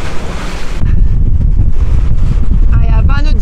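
Strong wind of about 20 knots roars across open sea off Martinique and Dominica, buffeting the microphone in a loud, constant rumble, with a faint voice briefly audible near the end.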